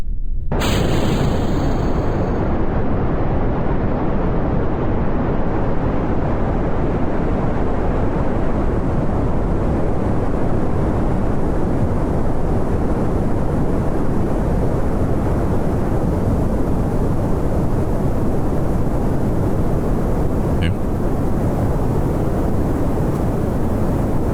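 A rocket launches at full throttle in the video game Kerbal Space Program, a loud, continuous roaring rumble that begins abruptly and holds steady throughout.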